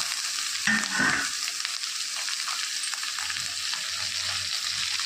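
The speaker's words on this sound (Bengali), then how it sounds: "বেগুনগুলোকেও ঠিক এইভাবে ভেজে নেব" Eggplant fries in hot oil in a wok, a steady bright sizzle throughout with occasional stirring clatter, close and fairly loud, no talking.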